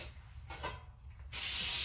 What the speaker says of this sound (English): So, I'm going to go ahead and get my pan sprayed.